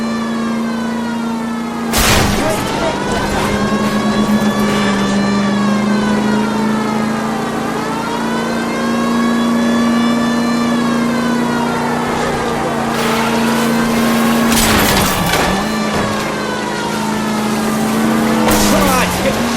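A video-game car engine screams at high revs through a chase, loud and sustained, with brief bursts of crashes or impacts and pitch dips as it shifts, close and continuous for the whole stretch.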